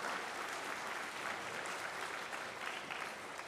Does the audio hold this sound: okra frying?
no